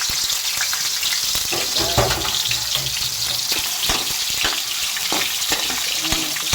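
Ingredients for menudo frying in a pan give a steady, close, loud sizzle with scattered crackles and an occasional light clatter, heard alone throughout without any talking.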